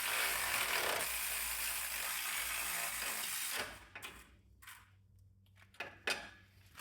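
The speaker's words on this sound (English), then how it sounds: "So I've got an 11/16 wrench on the nut, and I'll just tighten down the head." Wrench tightening a lower ball joint bolt on a 1994 Chevy K1500 front suspension, heard after a steady broadband hiss, as a few faint, separate metallic clicks and scrapes at close range.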